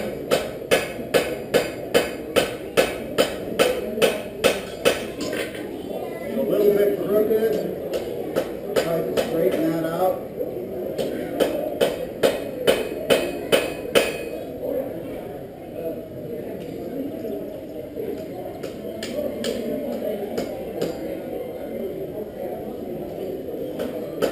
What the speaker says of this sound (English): I use the edge of my hammer to do most of my riveting.